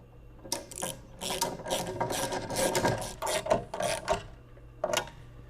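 Ratcheting wrench tightening lock nuts and washers on heavy-duty spare tire luggage rack hardware for a Ural motorcycle, with repeated close, brisk clicking bursts separated by short pauses.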